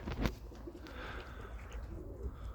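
Pigeons coo softly in a loft, low murmuring calls over faint background noise, with a brief louder rustle near the start.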